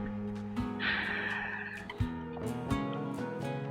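Chickens in the RimWorld video game make throaty clucking, gobbling calls over a steady tonal game music bed, several bursts close together.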